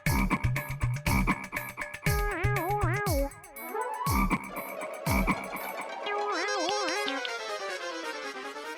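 Rhythmic frog croaking, a series of loud, close, throaty pulses with wavering warbling calls in between, no talking.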